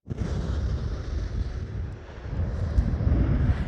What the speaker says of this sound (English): that was an American Airlines 777-300